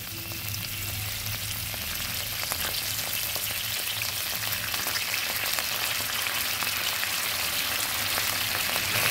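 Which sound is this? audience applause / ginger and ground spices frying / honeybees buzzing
ginger and ground spices frying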